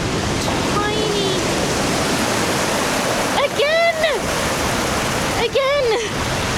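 River water along the Thames foreshore rushes and laps steadily throughout, loud and close, with a few brief bird calls rising over the constant wash; no talking.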